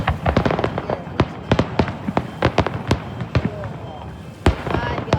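Fireworks bursting over Stanley Park's Second Beach, a rapid series of loud, sharp cracks and booms close by, some overlapping, with crowd voices talking underneath.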